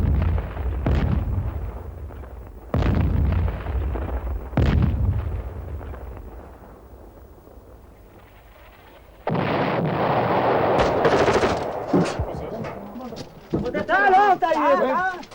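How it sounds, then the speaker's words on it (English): Artillery shelling and gunfire on a ridge in Lebanon during the civil war, with three loud booming blasts spaced a few seconds apart, then a dense stretch of crackling fire and sharp bursts, with voices talking over it. "the Syrians began firing over our heads to pound positions behind us"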